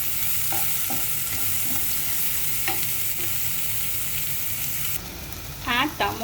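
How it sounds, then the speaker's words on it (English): Onion pieces fry in hot oil with urad dal, cumin, mustard seeds and curry leaves, sending up a loud, steady sizzle with occasional spoon taps against the pan and a brief clatter near the end. "fry onions"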